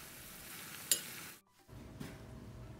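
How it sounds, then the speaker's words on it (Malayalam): Onions fry in hot coconut oil for Malabar chicken biriyani, a steady close sizzle with a brief clink and a short pause before the crackle resumes. "വെളിച്ചെണ്ണ ചൂടാതിന് ശേഷം വലിയുള്ളി അതിലേക്കിട്ട് നമുക്ക് ഫ്രൈ ചെയ്തെടുക്കാം"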